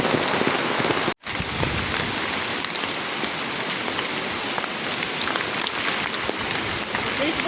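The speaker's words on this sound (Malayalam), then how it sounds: "ഞങ്ങളിപ്പോൾ ആ മഴയത്ത് പെട്ടിരിക്കുകയാണ്" Heavy rain pours steadily onto a home garden plot nearby, a dense continuous patter with one brief sudden dropout early on.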